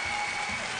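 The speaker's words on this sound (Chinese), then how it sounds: "掌声送给他们" A short burst of audience clapping at an Errenzhuan competition show, given to the Little Bee accompanying band; full, even applause filling the whole moment, with no talk.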